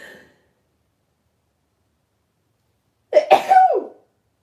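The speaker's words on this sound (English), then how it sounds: "now I am going to sneeze" A single sharp sneeze bursts out close by after near silence, preceded only by a faint short vocal sound at the start.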